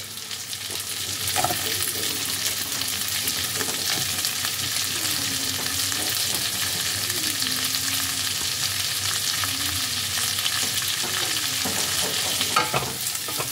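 Large-cut onions frying in hot oil with ginger and garlic, a continuous close sizzle with spatula scrapes and stirring knocks throughout, no voices.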